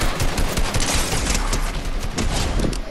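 Continuous automatic gunfire in Fortnite, dense rapid shots packed close together for the whole stretch, loud and up close with no talk over it.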